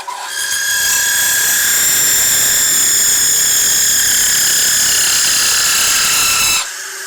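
A spinning top turned on a wood lathe at about 1600 rpm, embellished with a chatter tool, gives a loud, continuous high-pitched whine and buzz that holds steady for several seconds, then abruptly drops to a low hum.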